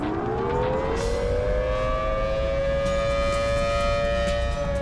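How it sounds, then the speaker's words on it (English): A loud outdoor warning siren wails steadily, its tone rising then holding a long sustained pitch, continuous throughout with no talking. "there's so much more to these sirens than what most people really know"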